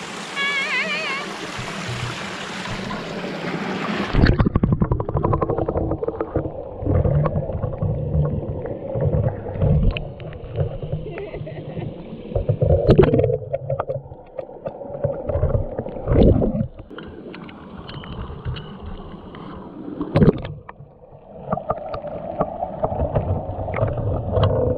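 Muffled underwater rumble from a GoPro submerged in clear river water in Portugal's Viana do Castelo district, a bright splash opening into sustained low churning with intermittent knocks and bubbling surges.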